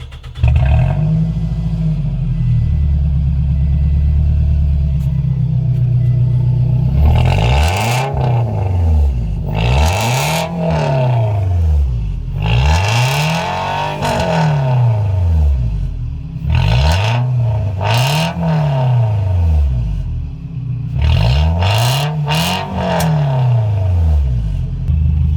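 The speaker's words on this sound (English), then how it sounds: "now we're gonna go in the car and fire this bad boy up" Scion tC with a Greddy exhaust revs up hard repeatedly after idling, each loud, close rise and fall in engine pitch repeating roughly every three seconds, with some rattly clatter at the peaks.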